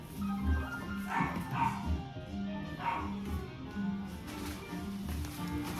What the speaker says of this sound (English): You're probably listening to my dog and thinking, please let your dog out to go to the bathroom.